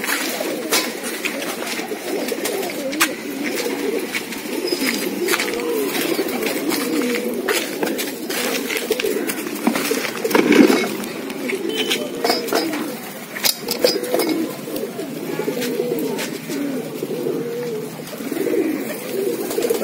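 Pigeons coo continuously at close range, a steady overlapping murmur of low throaty calls with small clinks and rustles, likely from a loft of domestic racing or fancy pigeons.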